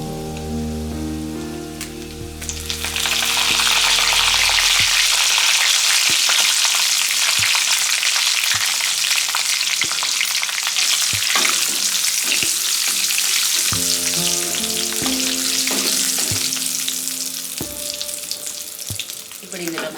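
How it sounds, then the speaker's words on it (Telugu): Tempering spices crackle in hot oil for a tomato pickle. A sudden, loud, rain-like sizzle erupts and roars steadily up close for most of the stretch, then fades back to quieter bubbling and a few clicks. "తాలింపు బాగా వేగిపోయిన తర్వాత స్టవ్ ఆపేసుకొని కరివేపాకు వేసుకోండి."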